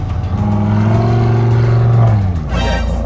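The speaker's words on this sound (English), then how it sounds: "the Lamborghini is all-wheel drive, which is why I want to test this car in the snow." An all-wheel-drive Lamborghini engine drones loud and steady up close as the car drives on snow and ice. Its tone climbs slightly, then drops off sharply near the end.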